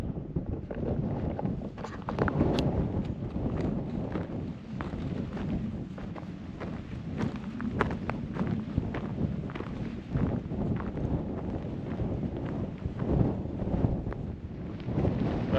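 Strong gusts batter the microphone on an exposed hilltop in the Cheviot Hills of Northumberland, a continuous low rumbling roar that surges and eases, with faint scuffing steps now and then and no speech.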